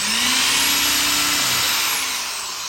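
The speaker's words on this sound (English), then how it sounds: "And you're just going to drill the hole," A power drill bores an axle hole into a wooden Pinewood Derby car, a loud steady high whine with a low hum under it that eases slightly near the end, with no talking.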